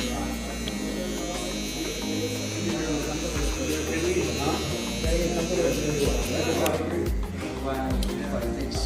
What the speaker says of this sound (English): we grab our trimmer and our clipper